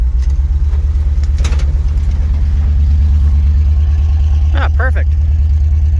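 An old International truck engine runs steadily while the truck moves through snow, a loud low idle-like drone throughout, with someone speaking briefly over it near the end.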